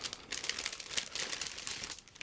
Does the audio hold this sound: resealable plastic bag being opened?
yes